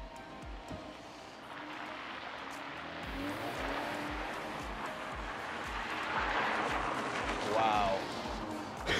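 A BMW drifting on the Zandvoort track in the Netherlands, its engine droning steadily with tire squeal building toward the end, heard from inside the car with faint talk underneath.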